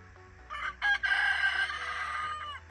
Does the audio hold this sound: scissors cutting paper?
no